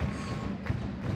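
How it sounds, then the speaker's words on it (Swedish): A slam dunk in a Swedish basketball game between Wetterbygden and Nässjö lands as a single brief thud midway through, set against a steady din of arena crowd noise. "In i mitten och då kommer dunken av Franklin Williams."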